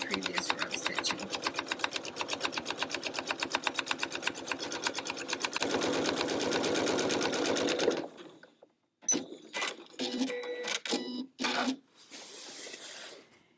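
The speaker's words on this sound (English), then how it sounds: "as I'm stitching, I'm just keeping this guide bar right on the previous row of stitching" A sewing machine quilts parallel lines on a quilt, guided by a seam guide bar, with a rapid, even stitching rhythm for about eight seconds, then short bursts of stitching with pauses between them.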